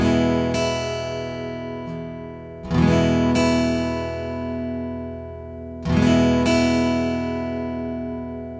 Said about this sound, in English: You are going to be just using the pick to kind of grab those 2 higher strings